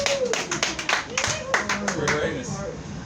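A small audience at an open mic gives a thin, scattered round of applause, individual claps standing out unevenly, with a voice talking over part of it.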